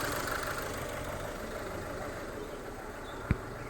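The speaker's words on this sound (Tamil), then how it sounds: "இந்த ஐட்லிங் ரிதம் வந்து நாட் ஓகே." Diesel car engine idling with an uneven, irregular rhythm, a steady low rumble heard close up with one brief click near the end.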